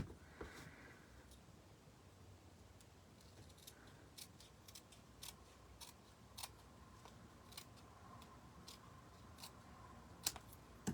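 Faint, sparse snips of scissors trim paper for a miniature barn quilt gate fold card, with short crisp clicks scattered irregularly over a quiet room hiss.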